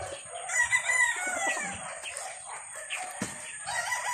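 Chickens on a Philippine farm cluck and crow nearby, with overlapping calls and a rooster-like crow among busy cackling, clear and fairly close without voices.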